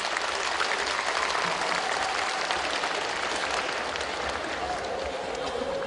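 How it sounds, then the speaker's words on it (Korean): Sustained applause from a crowd at a provincial Day of Persons with Disabilities ceremony in Gyeongbuk, a dense, steady clapping wash that holds at even loudness throughout. "뜨거운 박수 한번 부탁드리겠습니다"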